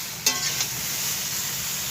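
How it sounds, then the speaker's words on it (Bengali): Cauliflower frying in a pan while being stirred, a steady loud sizzle with a couple of brief scraping stirs near the start, close up. "ফুলকপিটা ভাজা হয়ে গেছে"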